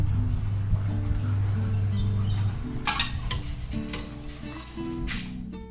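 Biryani marinade mixed in a bowl makes soft, wet stirring and squelching with a few light clinks of a spoon against the bowl, close up and fairly quiet, under a steady low hum.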